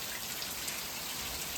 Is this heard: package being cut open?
no